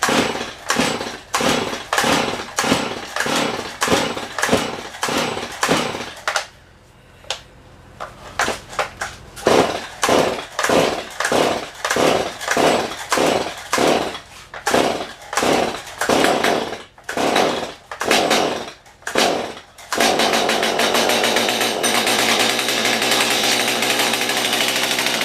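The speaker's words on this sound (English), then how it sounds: "We are working on this chainsaw. Let me try and get it fired." A Stihl chainsaw indoors is pull-started over and over, each yank giving a short loud rasp, then it catches and runs with a steady, close, loud engine drone.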